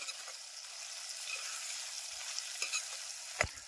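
Spices for Surti undhiyu are stirred into hot oil, giving a soft continuous sizzle and hiss with a few light scrapes and taps of a spoon against the pan near the end, quiet and steady, with no talking.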